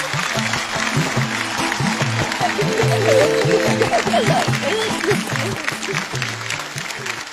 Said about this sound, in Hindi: सर के लिए और जोर से तालियां प्लीज।